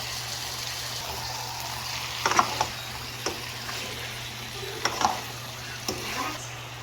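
Chicken cubes and pepper sauté in a pan for chicken afritada, a steady soft sizzle broken by a few sharp scrapes and clinks as the spoon stirs them.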